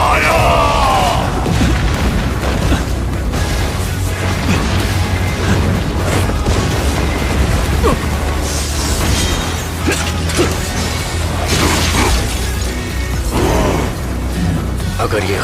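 A fire attack explosion from a Solo Leveling Season 2 anime fight scene: a dense, sustained roaring blast with rumbling booms and crackling bursts filling the whole span, mixed with dramatic score.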